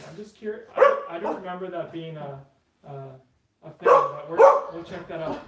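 A pet dog barks and yips in the background of a home while someone speaks over it during an electric bike unboxing.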